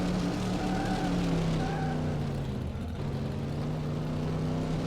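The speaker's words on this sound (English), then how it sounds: "The car sounds sound a lot better." Steady car engine drone from the Cars Mater-National video game, a continuous hum with sustained low tones that shift slightly in pitch, holding at a fairly even level throughout with no talk.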